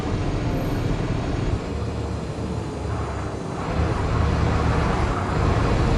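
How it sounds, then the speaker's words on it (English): A dense, steady roar of electric cars in the video game MindsEye, broadband rushing noise of many vehicles passing continuously, loud and unbroken for several seconds. "Considering all the cars here are electric, why do they make so much noise?"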